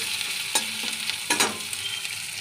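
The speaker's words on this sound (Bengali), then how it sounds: "তো পেঁয়াজটা লাল লাল করে ভেজে নিচ্ছি।" Onions frying in a pan over black cumin seed tempering, a bright continuous sizzle up close with a few sharp spatula scrapes and stirs, no voices.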